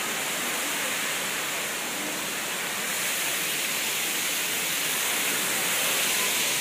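The waterfall at Rock Garden in Chandigarh roars as a steady, close, broadband rush of falling water, constant throughout with no voices.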